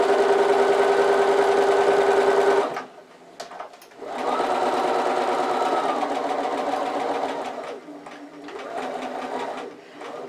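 Sewing machine running in two loud bursts while back stitching one flap of a fabric origami bag, motor whirring steadily, a short pause and lighter tapping between runs, no talk.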